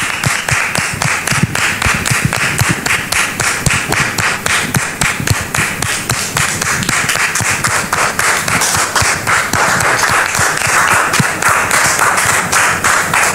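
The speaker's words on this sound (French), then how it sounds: "je demande au public de les recevoir avec applaudissements" Studio audience on a television set clapping, sharp individual claps in a fast, fairly regular rhythm, close and loud throughout.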